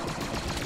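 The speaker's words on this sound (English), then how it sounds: "Oh, machine gun!" A brief, dense burst of machine gun fire in the Squad Star Wars mod shooter game, rapid, loud rattling shots packed together with no pause.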